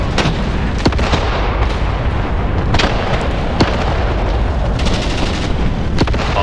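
A grenade charge explodes amid a tank assault on trenches in the Graviteam Tactics war game. Loud, sharp blasts crack repeatedly over a dense, continuous roar of battle.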